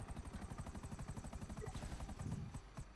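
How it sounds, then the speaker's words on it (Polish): Helicopter setting down in a video game, a steady rapid rotor chop with a droning engine, fairly loud and continuous with no voices over it. "O, helikopter mi siada."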